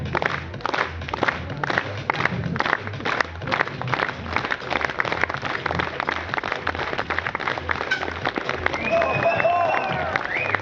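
A crowd at an outdoor county show mountain bike trials display claps steadily and continuously, with scattered cheers and a voice talking over the applause.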